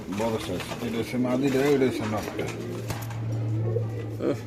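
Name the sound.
silver pigeon cooing at a pigeon farm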